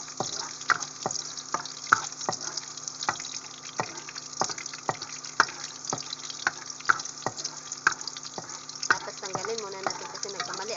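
Crushed garlic frying in a pan for spicy shrimp fried rice, a steady close sizzle with scattered crackles and small pops running throughout, under a faint background hum.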